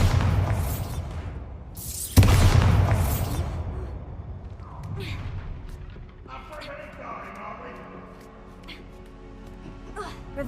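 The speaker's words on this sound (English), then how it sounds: "Bombarda." The Bombarda spell in Hogwarts Legacy sets off a loud, close explosion with a rumbling tail, followed by fainter game sounds, and a voice speaks.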